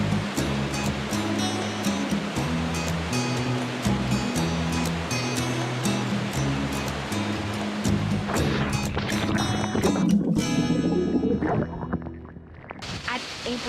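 Rushing water at Malatan-og Falls in Negros, a broad steady roar running throughout beneath louder background music, easing near the end.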